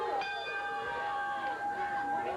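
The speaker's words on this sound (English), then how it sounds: "Bell sounds as Rip Rogers, the Hustler, removes the ropes, steps through the ropes" A wrestling ring bell clangs at a 1986 Memphis championship wrestling match, one bright metallic strike whose ringing tones sustain and slowly fade, with crowd and commentary underneath.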